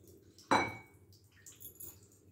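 A single soft clink of a spoon against a bowl as custard is ladled in for a mango trifle, followed by quiet wet scraping; close and faint, with no talking.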